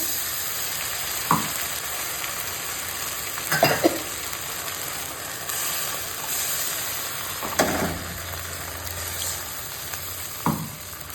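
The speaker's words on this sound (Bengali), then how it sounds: "তেল দিয়েছি মেথি হলুদ কালো জিরে তেজপাতা তারপর দিয়েছি পেঁয়াজ কুচি পেঁয়াজ কুচিটা ভাজা হয়ে গেছে" Chopped onion frying in oil with fenugreek, turmeric, nigella seeds and bay leaf: a steady close sizzle runs throughout, broken by a few sharp stirring scrapes, with no talk.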